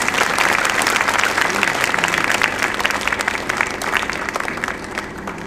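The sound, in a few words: audience applause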